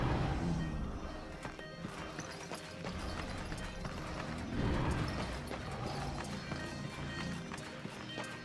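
Horse hooves clip-clop at a running pace in the video game Darksiders 2, a steady rhythmic patter set against a dense, loud game soundtrack with other effects.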